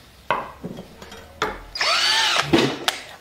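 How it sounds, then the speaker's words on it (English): A power drill bores through the center of a laminated skateboard wood ring, a short whining grind rising after a few clicks and handling knocks, close and fairly loud with no voices. "you're gonna want to drill out the center of this ring"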